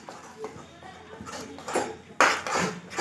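Ground peanuts stirred in a pan over low flame while making peanut sweets, with intermittent scraping and clinking of a utensil against the pan and a voice talking throughout.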